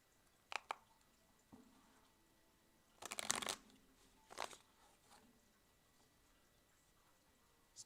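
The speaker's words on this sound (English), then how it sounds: "So, Jackson, focus on that question and tell me when to stop shuffling, okay?" Tarot cards shuffled by hand during a reading, a few soft riffling bursts and flicks spaced out over near-silence, close and fairly quiet.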